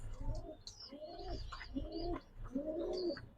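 A pair of fully white Damascene pigeons cooing close by, four rising, throaty coos in a steady rhythm with faint flutters between them.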